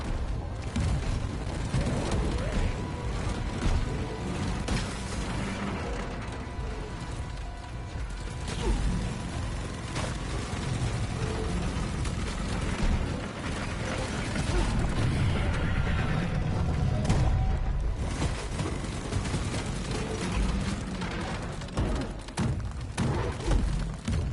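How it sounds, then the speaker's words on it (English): An incendiary grenade goes off during a Deep Rock Galactic mission, with a loud, rumbling burst of flame and thuds running under busy mechanical clanks and creaks from the ongoing fight. "Incendiary grenade!"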